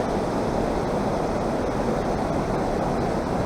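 Fast-flowing river water rushes at a dam in a loud, steady, dense roar with no breaks and no talk.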